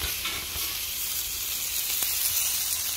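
Steady, loud sizzling and crackling of a pork chop cooking on a hot barbecue grill, a continuous hiss with occasional pops.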